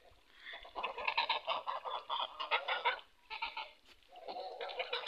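Several geese honk and cackle in a loud, overlapping chorus, with a brief pause before the honking resumes; no voices are heard.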